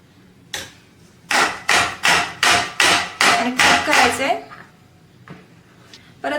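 An eggless marble cake batter in its tin is tapped on a surface to settle it, giving about eight sharp, evenly spaced knocks close up, then a couple of softer taps.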